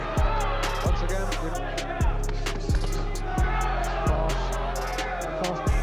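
Heavy thudding punches land in a regular rhythm, roughly one every second, over a murmuring crowd in a large hall during an early Lennox Lewis boxing fight.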